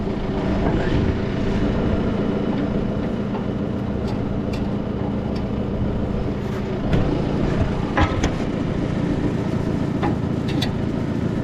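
A tractor-driven feed grinder runs steadily at close range, a continuous deep mechanical drone with rattling overtones, as its grinding section is taken out of gear while grinding feed for heifers and steers.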